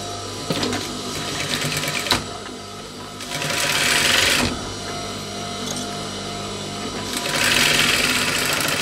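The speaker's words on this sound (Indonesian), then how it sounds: "Lalu kita mulai untuk menjahit bagian kain kantongnya." Sewing machine stitching the fabric of a back pocket on baggy trousers, running in steady bursts of rapid mechanical stitching with short pauses between, close and fairly loud with no talk.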